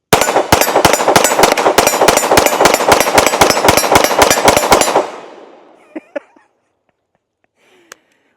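A Glock 47 fitted with a Radian Ramjet fires Hydra-Shok 124 +P rounds in a rapid string of about twenty loud, evenly spaced shots, then stops, leaving a fading echo and a few faint clinks.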